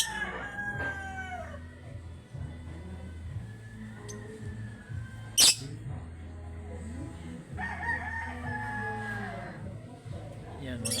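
A rooster crows several times nearby, long wavering calls heard under background chatter and clucking, with a sharp knock partway through.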